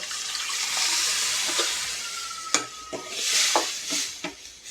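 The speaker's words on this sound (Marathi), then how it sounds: "हे बघा मसाल्यांनी आपलं तेल सुटलेलं आहे तर आपण आता चिरलेली डाळ टाकून घेऊया" Chopped dal tipped into hot oil already cooked down with spices for dal fry, giving a steady broad sizzle with sharp spatters and scraping stir strokes in the pan, close and fairly loud, with no talking.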